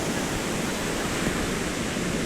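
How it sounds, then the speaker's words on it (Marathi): Continuous roar of high ocean surf at Devgad beach, broad and steady, with waves crashing without pause and no voices. "लाटा खूप उंच उंच पाट्या. येत आहेत बघा."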